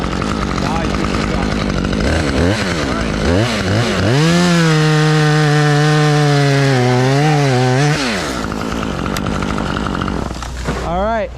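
A chainsaw running while chipping brush revs up and down in several short bursts, then holds a sustained high whine for a few seconds before dropping back, loud and close, with outdoor rustling around it.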